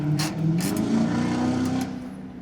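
Loud, rough exhaust on a Mercedes briefly revving up and holding, a raspy droning engine note up close that drops off after about two seconds.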